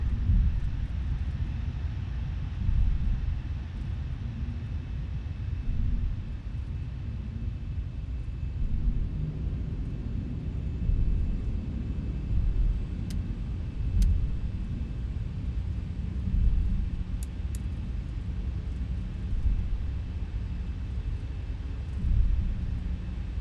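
An aircraft taxis slowly at an airport in X-Plane 11, giving a steady low engine rumble with a faint constant whine, continuous and unchanging with no voices.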